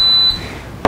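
A P&F NMB10 inductive proximity sensor gives a single short, steady high-pitched electronic beep as it detects a piece of steel, followed by a brief click.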